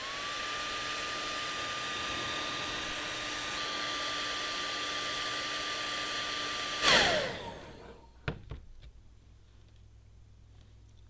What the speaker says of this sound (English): Using either your hairdryer or your heat gun, heat that same area until it's warm to the touch.